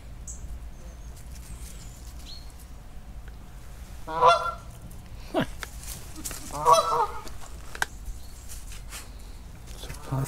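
Two bursts of loud goose honking, the second a rapid series of calls, over quiet outdoor background with brief murmuring, at the Scottish Crannog Centre in Kenmore.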